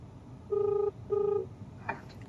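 A phone being dialed for a call: two evenly spaced steady electronic tones, moderately loud and close, followed by a brief faint click, with no one speaking.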